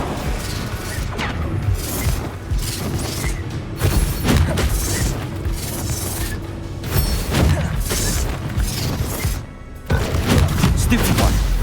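Bombarda explosion spells from Hogwarts Legacy boom and crash in dense, loud bursts amid ongoing battle noise, with rumbling impacts and clattering debris filling the whole stretch.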